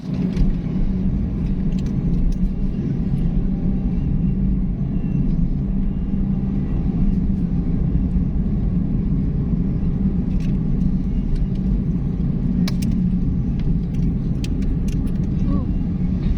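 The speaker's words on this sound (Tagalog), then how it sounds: "Malaki ng mga truck" Large trucks roll along the Porac Bypass Road between Angeles City and Floridablanca in Pampanga, a constant loud engine and tire rumble passing close by without pause, with voices faintly underneath.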